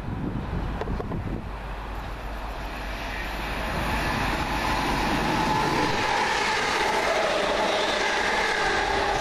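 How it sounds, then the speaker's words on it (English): A passenger train on the Manchester Airport to Liverpool Lime Street service via St Helens Junction approaches through wind buffeting, its rumble and rail noise building from faint to a steady, louder pass in the second half. "here comes the Hellfire Machine, 1 Foxtrot 98 from Manchester Airport to Liverpool Lime Street via St Helens Junction"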